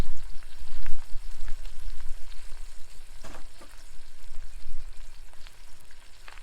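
Beef brisket sears and sizzles in a pan on an Adventure Kings camp stove, a steady loud crackling fry with a few sharper pops and spits, heard alone without talk.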